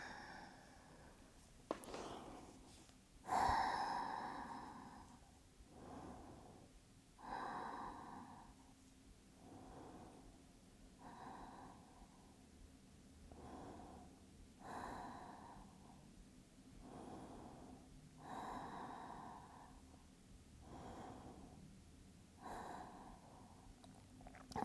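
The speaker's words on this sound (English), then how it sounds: "And breathe here for 8 breaths." Slow, deep breathing during a yoga stretch for splits, with soft inhales and exhales repeating in a regular rhythm, close and quiet over low room hiss.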